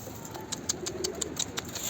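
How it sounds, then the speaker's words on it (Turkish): Pigeons on a rooftop, including a young one, give soft, faint coos and light flutters in a quiet outdoor setting, with scattered brief taps and wing sounds. "Yavru bu kuş."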